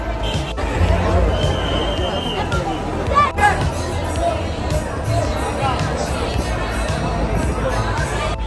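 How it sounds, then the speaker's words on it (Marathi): A dense crowd babbles under Curry Road bridge on the first day of Ganpati, heading toward Lalbaug in Mumbai, a continuous hubbub of many voices with occasional knocks and a nearer voice speaking. "आता करी रोड ब्रिजच्या खाली आणि तुम्ही बघू शकता की इकडे गर्दी तर भरपूर दिसते"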